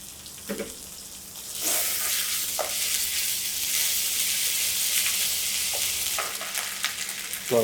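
Prawns frying with ginger garlic paste in a pan give a steady, fairly loud sizzle that swells after a couple of seconds, with a few scraping stirs and clinks over the hiss.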